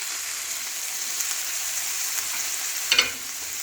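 Onion, chopped tomato and finely chopped green chilli frying in a pan for samosa chaat, making a steady crackling sizzle, with a sharp clatter of stirring near the end and no speech.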